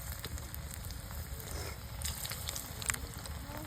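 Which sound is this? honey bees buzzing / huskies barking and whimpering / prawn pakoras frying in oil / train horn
prawn pakoras frying in oil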